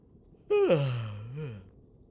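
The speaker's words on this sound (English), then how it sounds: "Sorry for the yawn" A single drawn-out yawn, breathy and voiced, swelling up and sliding down in pitch with a small rise at the end, close and alone over quiet background, from a player streaming hardcore Skyblock.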